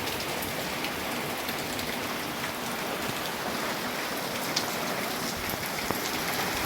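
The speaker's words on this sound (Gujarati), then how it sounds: "જુઓ કેટલો વરસાદ પડે છે ચોમાસા જેટલો વરસાદ પડે છે" Heavy unseasonal rain falls steadily in a village, a dense, even hiss of drops pattering on surfaces with no voices.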